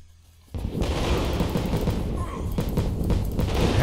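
Gunfire in the Lost City Of Vampires video game bursts in after a quiet start, a dense stretch of booming shots and crashes holding steady to the end, with a voice partly mixed in.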